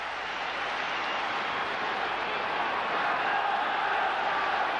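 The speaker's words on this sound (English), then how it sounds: "So the crowd respond to that." Huge football stadium crowd at a Manchester United match against Fenerbahçe, a dense, steady roar of many voices swelling slightly as a corner is awarded, continuous and loud with no clear individual words.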